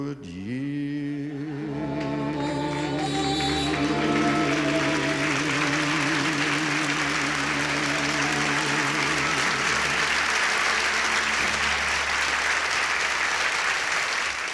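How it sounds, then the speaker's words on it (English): A live concert audience at the Sands in Las Vegas breaks into loud, sustained applause, dense clapping that swells and holds as the music fades away. "Oh, great applause there. Great applause."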